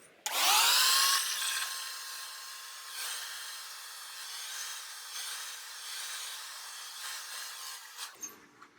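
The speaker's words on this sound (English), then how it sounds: "I'm going to take my blow dryer and get a little bit more of that moisture out so that this goes faster" Hair dryer blowing hair dry during a round-brush blow-dry, switching on with a loud rush, then a steady close whooshing hum that shifts slightly as it moves and cuts off near the end.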